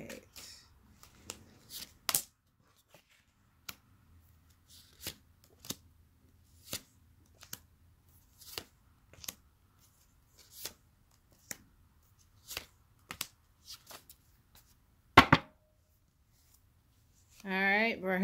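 Tarot cards being shuffled in sparse, soft, separate slaps and flicks, close and quiet, with brief speech at the start and end.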